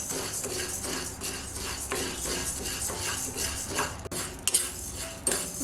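Lentils are stirred in a pan while dry roasting for idli podi, a steady scraping and rattling of a spoon against the pan with occasional sharper clinks, close and continuous.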